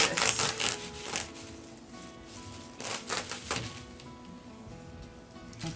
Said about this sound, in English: Let's see if we can just cut through this.